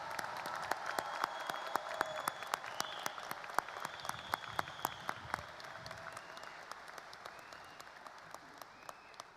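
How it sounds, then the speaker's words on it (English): Applause from a sizeable crowd at a high school graduation ceremony, dense clapping that stays steady and then gradually thins out toward the end. "please join me in one more round of applause for this amazing, absolutely incredible graduating class of 2021"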